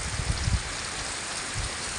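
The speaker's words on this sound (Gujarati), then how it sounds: "વાવણી જેવો વરસાદ થઈ ગયા, વાંધો નહીં આવે" Steady rain pours down on a farm field at Bhavabhi Khijadiya village, a constant dense hiss with a few heavier low thumps of drops near the start and end, with no voices.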